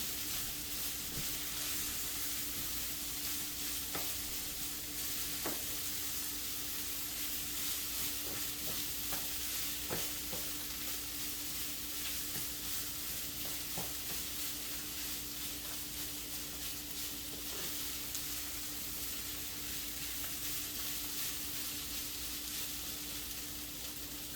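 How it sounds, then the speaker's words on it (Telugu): Chicken and asparagus frying in a pan, a continuous even sizzle with a faint hum beneath and occasional light scrapes and taps from stirring, steady and moderately quiet throughout. "ఈ రెండు కలిసినప్పుడు ఒక 5 to 10 minutes ఫ్రై చేస్తే బాగా డీప్గా బ్రౌనిష్ వస్తుంది"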